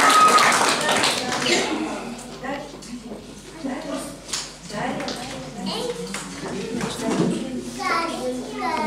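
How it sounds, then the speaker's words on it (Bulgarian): A small audience at a children's Mother's Day show claps in a scattered, uneven patter, with children's voices and chatter running over and between the claps for most of the stretch. "Аплодисменти!"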